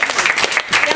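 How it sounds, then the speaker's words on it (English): An audience claps loudly after a theater debut at a bookshop, a short dense burst of applause. "I think you deserve another hand."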